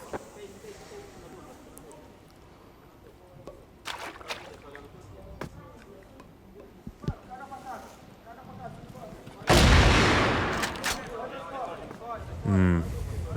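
Gunfire from a competitive Counter-Strike-style shooter match at the CFS 2019 Grand Finals, with scattered sharp shots and a loud burst near the end over steady background noise and commentary.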